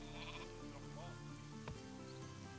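Sheep bleat quietly in the Viking strategy game Northgard, a few short wavering calls over a soft, steady ambient bed of game sound.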